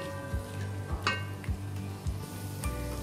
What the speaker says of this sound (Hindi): प्याज और अनियन को दोनों इकट्ठे पकाएंगे ताकि मशरूम जो है वो सॉफ्ट हो जाए